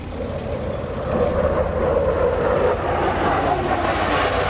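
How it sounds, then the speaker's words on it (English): A steady jet roar fills the air, a broad rushing drone that swells after the first second and holds loud and constant as it passes. "Do you guys want to hear a jet go by while we're waiting?"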